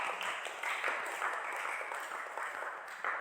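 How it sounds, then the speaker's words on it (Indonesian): Students in a vocational welding and metal fabrication class clap together, a faint, distant, steady patter of many hands lasting a few seconds. "Oke, tepuk tangan buat kita semua."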